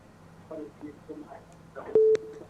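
A steady telephone line tone cuts in briefly near the end of a call-in on a Ukrainian evening radio broadcast, a single flat beep standing out over low background hum with no talk.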